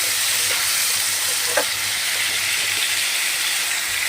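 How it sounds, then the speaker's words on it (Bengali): Chunks of turnip and potato frying in hot oil with onion in a pan, a steady bright crackling sizzle throughout, with a few faint scrapes from stirring and no voices. "এগুলো একটু হালকা করে ভেজে নেব।"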